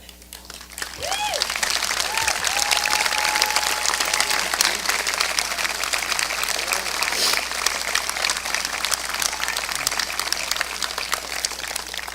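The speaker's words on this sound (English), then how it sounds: "would all students who receive the seal of biliteracy please stand so we can applaud" Graduation audience applauding students who earned a biliteracy seal at a 2020 high school ceremony, steady dense clapping building after a quiet start and continuing throughout, with a brief voice early on.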